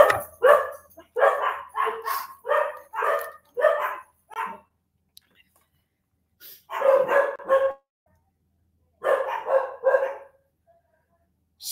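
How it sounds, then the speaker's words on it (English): A dog barks in several bursts of four to six quick, sharp barks separated by silent gaps, fairly close and alone. "Sorry about the dog."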